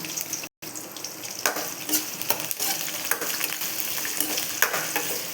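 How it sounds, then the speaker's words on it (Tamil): Large onions sauté in a pan for a bitter gourd kuzhambu, a continuous crackling sizzle broken by sharp stirring clicks and scrapes, close and fairly loud, with a brief dropout near the start. "வெங்காயம், வெங்காயம் நல்லா வதங்கி வரணும்."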